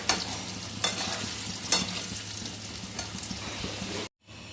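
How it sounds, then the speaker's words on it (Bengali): Chicken pieces fry in a pan with a busy, close sizzle, broken by a few sharp scrapes and clatters of a spatula being stirred, until the sound cuts off abruptly near the end. "ভালো করে লাল লাল করে ভেজে নেব।"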